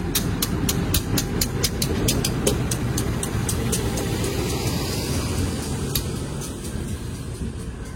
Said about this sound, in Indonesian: lokomotif merah menarik rangkaian kereta petani, persiapan masuk